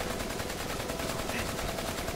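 Rapid automatic gunfire from a Spider-Man film bursts in a dense, continuous rattle of shots, loud and steady with no talking.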